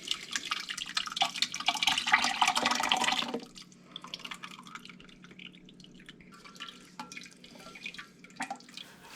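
Ginger syrup steeped with ginger root is drained, giving a loud steady pour of liquid for about three seconds that stops abruptly, followed by faint dripping and small trickles.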